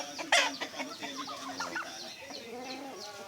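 Native chickens cluck in short, irregular bursts as a turkey and a Rhode Island chicken fight, with one sharp loud squawk near the start and other birds calling around them in a farmyard.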